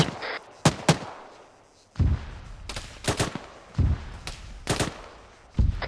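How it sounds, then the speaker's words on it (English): Heavy bursts of gunfire and booming impacts from incoming mortar rounds strike in close, loud clusters, separated by short gaps, during a training exercise; no voices. "Watch out, mortar rounds incoming."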